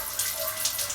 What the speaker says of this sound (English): turning on of the tap, checking for leaks